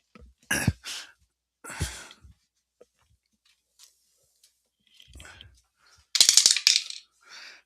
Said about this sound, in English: And we dropped the dice.